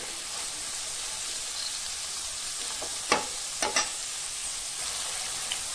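Vegetables for veg fried rice fry over a medium-low gas flame. An even, hissing sizzle runs throughout, and a few quick spatula scrapes cluster near the middle.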